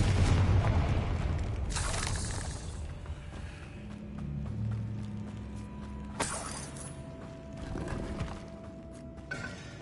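A Confringo fire spell blasts in Hogwarts Legacy, two loud bursts a few seconds apart with crackling debris over a low rumble of game combat ambience.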